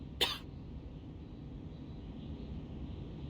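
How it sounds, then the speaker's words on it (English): A single short, sharp cough from a character in the video game Reverse 1999 comes right at the start and is faint. A quiet, steady background hum follows. "And now I cough and splutter just like it does."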